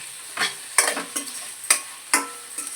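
Tomatoes and ginger paste frying in a pan, heard as a soft sizzle broken by several distinct spatula scrapes and clinks at an irregular rhythm, close and alone.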